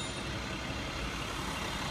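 A bus pulls up with a steady heavy diesel rumble and broadband road noise, close and continuous, with faint hints of air brakes and reversing beeps.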